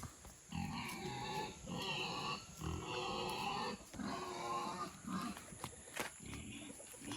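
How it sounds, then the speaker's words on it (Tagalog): Three goats at play make repeated grunting, bleating calls in short bursts, fairly close and loud over a noisy outdoor background. "Ayan, 3 kambing, oh."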